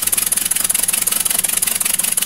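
A small model two-cylinder steam engine runs on compressed air at 10 pounds of pressure, giving a fast, even chuffing beat that stays close and steady throughout.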